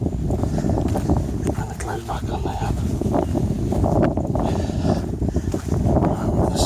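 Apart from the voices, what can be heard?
wind blowing into the microphone on a hilltop walk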